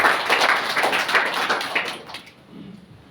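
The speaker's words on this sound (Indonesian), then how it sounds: "Kasih tepuk tangan untuk Tuhan." Church congregation clapping hands during a sermon, a short burst of rhythmic claps that quickly dies away into quiet.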